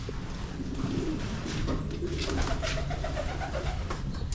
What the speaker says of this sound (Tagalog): Mga ganitong kalapate.